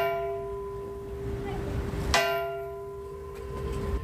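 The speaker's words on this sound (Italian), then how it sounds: "Campane che rintoccheranno a festa nella solennità della Pasqua." A church bell in honour of San Bartolomeo rings once under a small hammer, a sharp metallic strike followed by a long, sustained ringing tone. A faint voice murmurs in the background.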